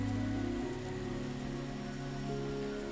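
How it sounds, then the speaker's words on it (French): Rain falls in the video game XING: The Land Beyond, a steady, even hiss of drops on surfaces under a low sustained musical drone, continuous throughout with no talk. "quand il pleut, on a la pluie et la neige en même temps"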